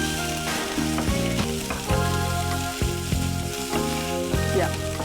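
Cumin seeds, ginger and garlic fry in a pan for barley soup, a loud close sizzle with crackling pops, heard beneath recurring tonal music.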